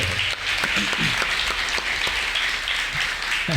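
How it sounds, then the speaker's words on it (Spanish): Audience applause fills a live podcast anniversary show, a steady dense wash of clapping at moderate loudness that holds for a few seconds with a few sharper individual claps standing out. "así que un aplauso para muchas gracias"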